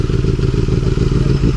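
A Benelli 600i motorcycle fitted with an aftermarket exhaust revs steadily, a loud, close, low engine roar with dense rumbling pulses that barely let up.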